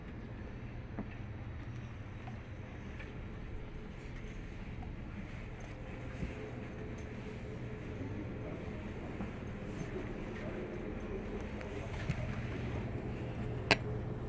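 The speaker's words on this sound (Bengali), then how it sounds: "এগুলো হচ্ছে লোকাল ট্রেন।" A local train waits at a railway station in Germany, giving a steady low rumble and hum under a broad, even hiss, with a sharp brief click near the end and no voices.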